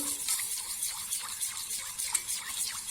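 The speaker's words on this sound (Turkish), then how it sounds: "Gördüğünüz gibi süzdük pirincimizi." Water gushes and splashes steadily from strained rice as it drains, a continuous bright trickling with small irregular spatters, heard close up.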